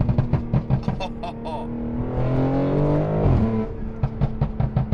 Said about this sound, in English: Listen to this downshift one more time.